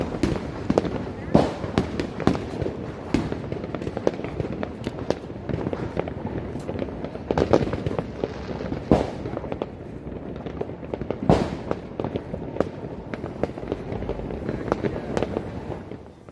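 Fireworks crackle and pop continuously over San Salvador on New Year's Eve, with sharp louder bangs scattered throughout, over a busy outdoor crowd murmur.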